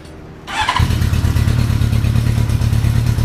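A Honda CB motorcycle with fouled plugs kick-started with no choke, heard as a quiet hum followed by a clatter, after which the engine catches and settles into a loud, steady, close idle.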